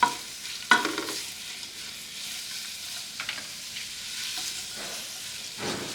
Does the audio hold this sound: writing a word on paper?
no